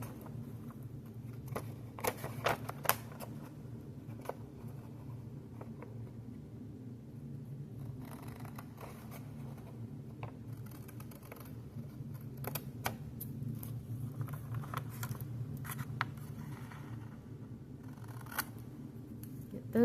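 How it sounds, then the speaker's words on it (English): Scissors cutting a paper bag along traced lines give scattered sharp snips and crisp paper rustles, some in quick bursts, over a low steady room rumble with no speech. "I'm just going to carefully cut around where I trace."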